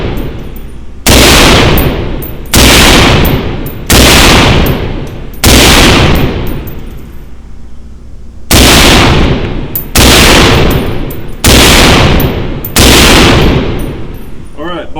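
A POF USA Rogue pistol fires outdoors, eight loud close single shots at irregular intervals of about one to two seconds, each a sharp crack with a ringing decay.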